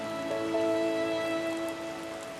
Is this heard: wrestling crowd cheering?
no